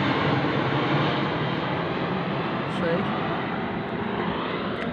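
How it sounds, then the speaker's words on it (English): Airplanes passing overhead, a steady broad rumbling roar that holds for several seconds and eases slightly toward the end, with no talking. "It's no coincidence that those planes go over as I say that"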